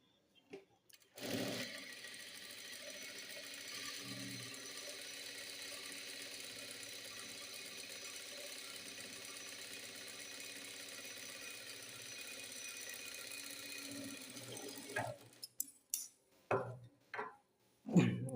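A sewing machine stitches a second line over a seam on a collared panjabi, running in one continuous steady whirring burst for about fourteen seconds, then stopping, followed by a few short clicks and handling knocks.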